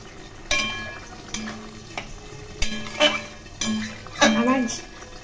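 Ridge gourd and potato cooking with poppy seed paste in a pan for a Bengali posto dish: a series of spoon scrapes and stirring strokes against the pan, roughly half a dozen close, clattery strokes over a low sizzle.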